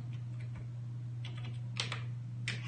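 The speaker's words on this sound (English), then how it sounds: "start typing from the keyboard." Typing on a computer keyboard, faint scattered key clicks in short bursts over a steady low electrical hum.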